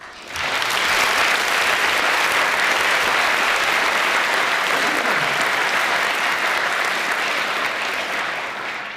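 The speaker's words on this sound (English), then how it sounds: "So please join me in a round of applause for our guests." An audience in a hall gives a round of applause for the guests, a dense, sustained clapping that starts abruptly, holds steady and tapers slightly at the end.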